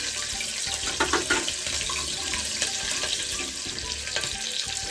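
Mustard seeds, chopped green chillies and curry leaves fry in hot oil for a khara pongal tempering, giving a continuous close sizzle and crackle with a few sharper pops and no talk.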